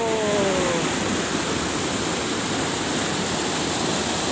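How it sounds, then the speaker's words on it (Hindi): Drain water pouring into the overflow tank of a hydel channel, a steady loud rushing wash of water with no pauses, broad and constant like a small waterfall. "और ये टंकी के लिए पानी जो इस तरह से ड्रेन होके आ रहा है,"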